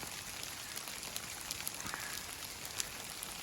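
Hail mixed with rain patters steadily on a hiking trail and the cover of a tree, a dense, even hiss of small impacts with occasional sharper ticks, close and fairly quiet.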